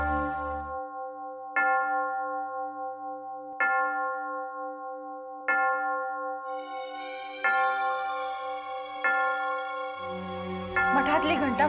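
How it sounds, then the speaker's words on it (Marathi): A monastery bell rings for evening aarti in a village, struck six times at a steady two-second pace with long ringing tails, loud and close, with a burst of other noise at the very end. "मठातली घंटा वाजतीये."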